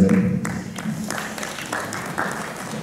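An audience at a Russian-Chinese film festival gala in Saint Petersburg applauds, moderate clapping that rises briefly and then thins into scattered claps with a few louder bursts.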